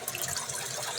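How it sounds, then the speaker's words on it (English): Well pipe sputtering as pressure builds, a steady close hiss of rushing water mixed with air for the whole moment, with no talk over it. "It should start spitting air."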